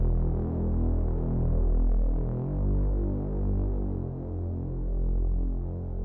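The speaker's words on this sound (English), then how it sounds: "soft clip distortion. So what I like to do is I'll put way too much of the effects" A deep, sustained Serum synth bass with a gritty soft-clip distortion tone, throbbing slowly in level across several seconds without any voice.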